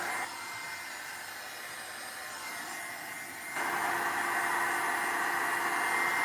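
A hair dryer blows steadily on a tall, slim paper collage, a constant close whooshing roar that shifts to a louder, brighter pitch partway through as the angle changes, with no talk.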